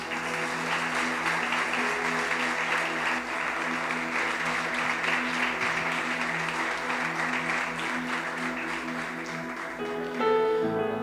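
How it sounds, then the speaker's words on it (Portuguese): A church congregation applauds in sustained, even clapping that fills the space for about ten seconds and then tapers off near the end. "Aplauda o Senhor, amados."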